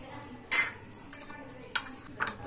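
Spoon clinking against a bowl while mixing a pudachi vadi filling with amchur powder, a few sharp scrapes and clinks at irregular moments, fairly quiet and close.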